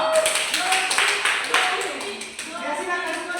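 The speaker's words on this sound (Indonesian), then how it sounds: "silakan tepuk tangan untuk kelompok dua" Pupils in a fourth-grade elementary classroom applaud a group, scattered, uneven hand claps close by for a few seconds, mixed with children's voices.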